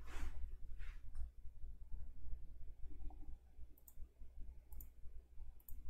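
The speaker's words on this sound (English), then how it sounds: "click on login" A computer mouse clicks on a login button, a few faint, sharp clicks spaced about a second apart near the end, close by over a low steady hum with no speech.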